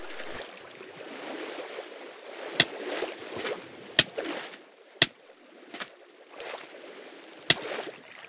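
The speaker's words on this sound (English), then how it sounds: "So the splashes of the water sound more realistic now." Water splashing in Minecraft 1.4 snapshot gameplay, with a steady watery wash broken by several sharp, bright splash hits spaced a second or so apart, close and fairly loud with no talking.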